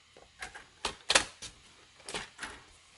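Paper being cut along a marked line, probably with a paper trimmer, with a series of sharp, close clacks and slicing sounds in an irregular rhythm and no talking.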